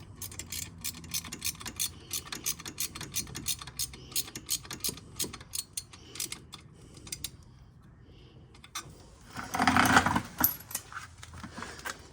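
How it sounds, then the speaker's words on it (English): A wrench ratchets in quick repeated clicks while an exhaust header bolt is tightened on a Suzuki LTZ 400 ATV, close and fairly soft, with a brief louder burst of rattling near the end. "tighten the header bolt up there"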